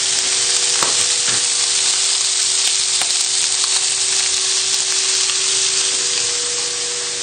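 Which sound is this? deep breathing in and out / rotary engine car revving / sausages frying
sausages frying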